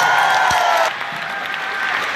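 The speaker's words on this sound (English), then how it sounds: "Give him a round of applause." Concert audience at a show in Saginaw, Michigan, applauding the drummer: loud, dense clapping and cheering that drops off sharply partway through, leaving a quieter trailing applause.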